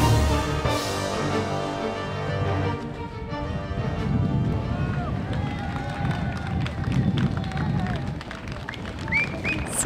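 A crowd at a Martinique harbour applauds and cheers as a solo sailor docks after 59 days alone at sea. Dense clapping runs throughout, mixed with voices and sustained tonal sounds.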